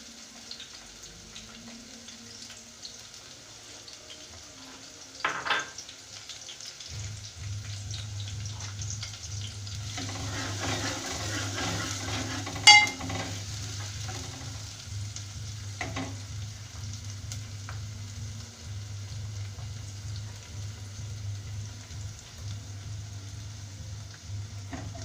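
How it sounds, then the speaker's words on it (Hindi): Chopped onions frying in hot oil, with a faint, steady sizzle and a low continuous hum, broken by a few louder clatters and stirring scrapes, heard close with no one talking. "तो हमारा ऑयल जो है वो हीट अप हो गया। तो अब सबसे पहले हम डालेंगे इसमें प्याज।"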